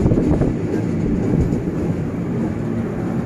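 A KRL commuter train passing at Manggarai station in Jakarta, a loud, steady, broadband rumble and rail roar that fills the whole stretch without pause.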